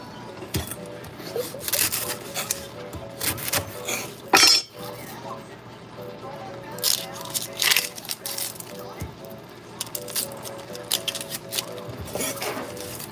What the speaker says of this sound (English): you cut your onions into small sizes.